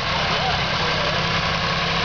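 An antique tractor engine runs steadily in a show parade at an antique tractor and machinery association event, a pink tractor among them. The loud, continuous engine rumble fills the whole moment, with a voice speaking over it.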